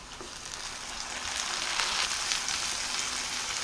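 Onions and tomatoes sauté in a pan for a jackfruit seed fry, giving a steady broadband sizzle that swells a little partway through and stays close and continuous, with no voices.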